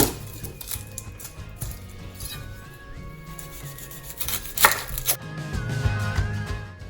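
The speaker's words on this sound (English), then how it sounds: "I am going to just chop up 6 onions." Six onions are chopped with a knife on a board for a chickpea curry sauce, giving a steady run of close, crisp, fairly loud knife strikes with no talking.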